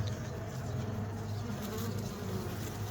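Honey bees buzzing in a hive kept to overwinter spare queens, a dense continuous low drone at close range, steady throughout with no voices.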